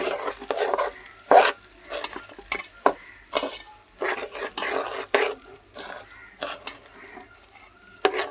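Pulao with ginger paste being stirred and fried in a pot at home, giving close, irregular bursts of scraping and sizzling spread through the stretch with short pauses between strokes.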